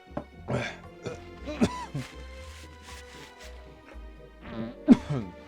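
Someone coughs and clears their throat a few times amid faint background music, with short bursts of voice in between.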